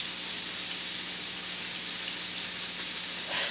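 Meat for Southern goulash sizzling steadily in a pan, a soft continuous hiss and crackle heard close and fairly quiet, with no talking.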